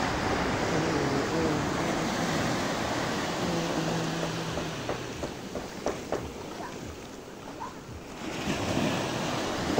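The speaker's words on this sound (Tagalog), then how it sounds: "Lalakas ng alon." Strong ocean waves at Bauang Beach, with steady, loud surf roaring and washing ashore, buffeted by wind noise on the microphone.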